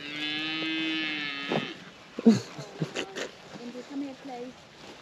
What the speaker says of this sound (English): I now have some pedigree cows